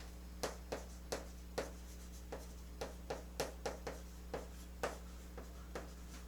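A pen writing by hand on paper, close and quiet, tapping and scratching in short irregular strokes against a steady low hum.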